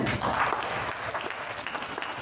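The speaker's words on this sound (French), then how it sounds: "Acclamons très fort" Applause from a church audience: a short burst of clapping, moderately loud at first and thinning out over about two seconds.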